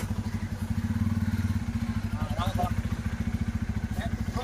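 A Bajaj motorcycle pushed backward while its engine runs, with a steady, close, rapid thumping pulse throughout and voices speaking faintly over it.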